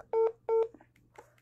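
Two telephone keypad dialing tones sound close and clear in quick succession, each lasting about a quarter second, followed by faint clicks against a low steady hum, with no talking.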